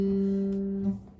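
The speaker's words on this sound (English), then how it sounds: "Open, 3rd string." An open third (G) string on a guitar is plucked once and rings out steadily with clear harmonics, decaying slightly near the end with no voices present.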